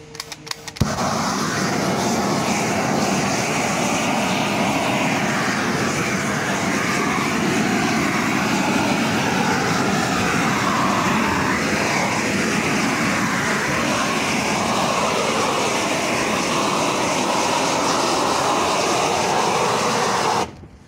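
A gas weed burner torch roars after ignition, a loud continuous broadband rushing hiss that holds steady for about twenty seconds before cutting off, close and alone.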